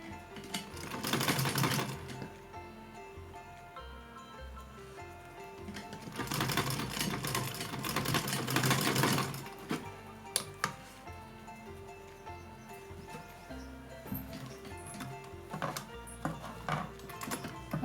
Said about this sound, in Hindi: फिर से यहाँ ऐसे डबल करेंगे और यहाँ फिर एक सिलाई लगाएंगे।